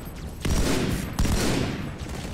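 Rapid gunfire from a weapon in the video game Halo 2, two loud dense bursts of shots close up, each followed by a short tail, with no talk over them.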